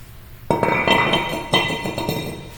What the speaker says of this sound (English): So now we can remove our brake rotor.